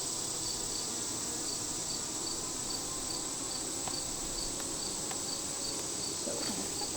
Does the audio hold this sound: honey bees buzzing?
yes